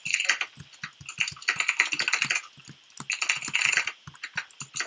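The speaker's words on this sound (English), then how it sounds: "have you got a new keyboard that's, like, annoying as heck?" Fast, clattery typing on a new, noisy computer keyboard, sharp close key clicks in quick bursts with short pauses between them.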